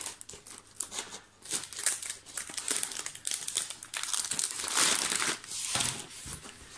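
A plastic bag crinkles and rustles while being handled during an unboxing of washi tape and a diamond painting kit, loud irregular crackling bursts close to the microphone, no talking.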